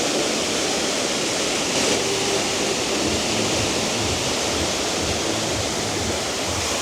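A waterfall outside the Palazzo on the Las Vegas Strip at night gives a steady, broad rush of falling water, close and constant, with faint low city rumble beneath and no talking.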